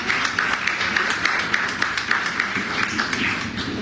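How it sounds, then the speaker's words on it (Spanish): A church congregation applauds for Israel during a Sunday morning service, with dense, continuous clapping from many people filling the room at an even level from start to finish. "Den un aplauso a Israel también."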